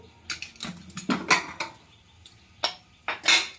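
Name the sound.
opening a pressure cooker after cooking mutton curry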